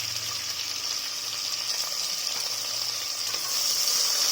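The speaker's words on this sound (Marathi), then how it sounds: "आपलं तेल गरम झालेलं आहे, आपण घेतलेला हा कांदा त्याच्यामध्ये घालून घेऊया" Chopped onion dropped into hot oil in a pressure cooker, a loud, steady sizzle and hiss that builds slightly toward the end, with no voices over it.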